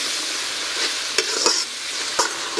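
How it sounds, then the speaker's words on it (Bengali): Coriander powder, chilli powder and salt fry in a pan for a taro root curry, making a bright, close sizzle broken by a few quick spatula scrapes and taps. "মশলা ভালো করে ভেজে নিয়েছি"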